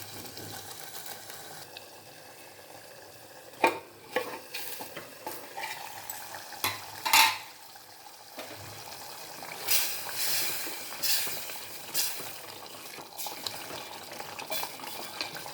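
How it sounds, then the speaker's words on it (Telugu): A masala for a drumstick and brinjal curry fries in oil under a lid, a soft sizzle punctuated by intermittent clinks, knocks and stirring scrapes, fairly quiet overall. "ఇది కొంచెం పైకి తేలేంత వరకు మనము మూత పెట్టి వేయించుకుందామండి"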